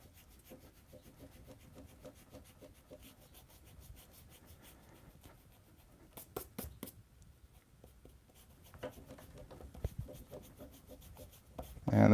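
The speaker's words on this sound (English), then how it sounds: "Pretty sure the Tony Stark side is dry, so we'll work on erasing this side." A pencil eraser rubbing out guidelines on a Post-it note drawing, heard as faint, close, rapid back-and-forth scrubbing that comes in bursts and gets louder toward the end, with no talking.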